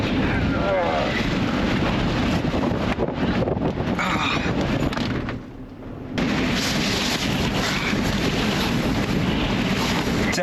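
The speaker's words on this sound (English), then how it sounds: "I knew it was going to be pretty windy up the top" Strong wind roars and buffets the microphone on a mountain top in Tasmania almost continuously, briefly easing for a moment before gusting back in full force.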